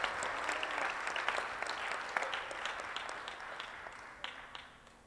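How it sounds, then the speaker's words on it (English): Applause for award recipients at an annual Martin Luther King Jr. commemoration, a crowd clapping with distinct sharp claps over a steady wash, gradually fading toward the end. "please again give these award recipients here a round of applause"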